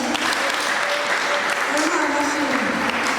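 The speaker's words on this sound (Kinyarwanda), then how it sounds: "Katuyikomera amashyi." A church congregation claps together in steady, dense applause that holds at an even level throughout, with voices faintly mixed into the crowd noise.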